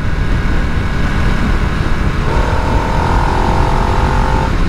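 A 2022 Harley Davidson Nightster 975 rumbles steadily while being ridden, a loud, close engine drone blended with rushing wind noise, its tone rising into a sustained higher whine partway through.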